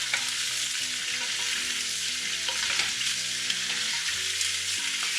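Red pepper sauce ingredients are stirred and mixed in a hot pan, giving a steady, close sizzle broken by scraping stir strokes, with no talking.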